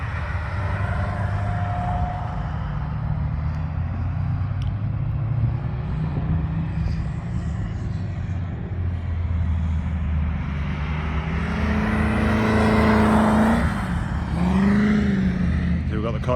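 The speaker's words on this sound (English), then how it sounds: "We've got the Cobra here. Not really giving it, but it sounds absolutely incredible." A Shelby Cobra muscle car engine rumbling at a race track day, a steady deep throaty drone that swells louder near the end, with a person talking over it and other traffic noise in the background.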